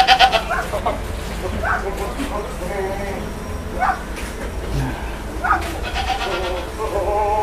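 Freshly bathed jumbo goats at a goat farm in Central Java bleat several times in short, wavering calls spaced a second or two apart, close and clear, with people talking underneath.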